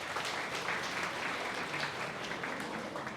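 Students in a programming class clap for two classmates, a quiet, steady patter of applause that sounds a little distant and carries no talk.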